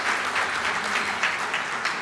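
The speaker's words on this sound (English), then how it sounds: "A great round of applause for Akant, who is not here with us today." Audience applause at an awards ceremony, a steady round of clapping from a sizeable crowd in a hall, continuous and fairly even throughout.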